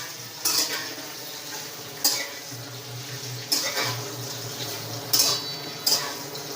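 Stuffed green chillies are sautéed in oil in a pan, giving a soft, steady sizzle. A metal utensil stirs and scrapes the pan, making about five sharp clinks at uneven intervals, close and clear.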